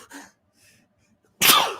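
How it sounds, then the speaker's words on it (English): A single sharp, close sneeze bursts out after a short breathy lead-in, standing alone in a quiet room. "a bit of a sneeze there"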